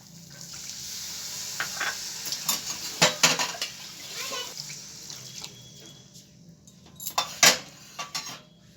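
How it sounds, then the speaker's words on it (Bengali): Water splashes into cooked spice masala in a pan, with sharp clinks and splashy bursts over a low steady hiss, the loudest pour near the end. "এবার আমি এতে দিয়ে দেবো জল।"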